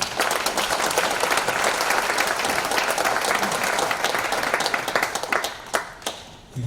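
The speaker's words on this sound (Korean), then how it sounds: "박수로 우리 환영하겠습니다" An audience at a church memorial lecture claps to welcome a speaker, steady hearty applause that thins toward the end into a few scattered individual claps.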